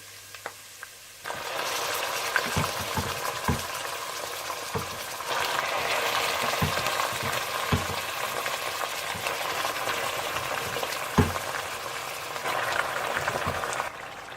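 Mustard greens fry in a hot pan with ginger and garlic, with steady, busy sizzling after a quieter start, and occasional soft knocks of stirring break through.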